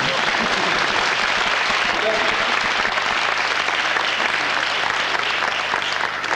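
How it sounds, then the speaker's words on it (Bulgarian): Audience at a stage show with a mind-reading duck breaks into steady applause, a dense wash of clapping held for several seconds, with some voices murmuring underneath. "заслужава бурни аплодисменти"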